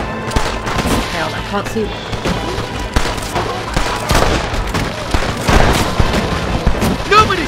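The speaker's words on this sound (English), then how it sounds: "Stop shooting from back there!" Rapid gunfire fills a Red Dead Redemption shootout during the assault on Fort Mercer, with dense overlapping rifle and pistol shots cracking near and far while someone speaks briefly over the din.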